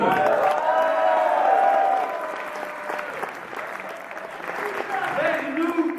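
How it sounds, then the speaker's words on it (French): An audience applauds a team as it is introduced on stage at a team tournament in Mons, a broad wash of clapping with a few cheers, while an announcer talks over it. "Et on les applaudit"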